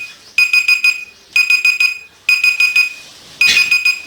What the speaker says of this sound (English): Good, cut the alarm